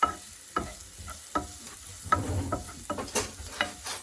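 Bacon sizzles in a pan for a cavolo nero pasta, with a series of distinct scraping and clinking stirring strokes over a soft, steady frying hiss, alone and close.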